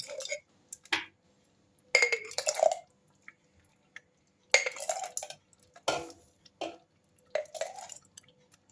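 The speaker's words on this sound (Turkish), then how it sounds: "Ve sıcak sıcak hemen kavanozlara koyuyorum." Hot homemade ketchup-style breakfast sauce is spooned into glass jars, giving intermittent clinks, scrapes and wet plops of spoon against glass in short separate bursts with quiet gaps between.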